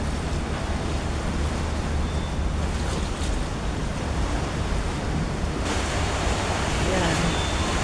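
Steady wash of water and wind rushes past on a moving ferry, a broad constant roar with a low engine rumble beneath, briefly brightening near the end.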